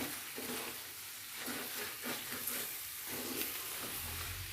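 Beef karahi with fresh coriander sizzles in a pan, a steady moderate hiss with repeated scraping strokes of a stirring spoon.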